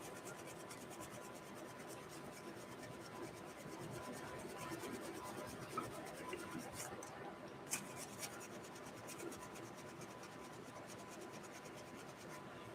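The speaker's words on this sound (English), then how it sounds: "I'll rub some of that color out." Oil paint is rubbed out of a canvas with steady, soft scratchy rubbing that continues throughout at low level, with a couple of sharper scrapes.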